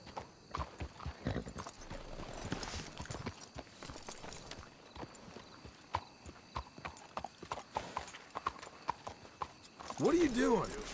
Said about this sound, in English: Let's leave the horses here.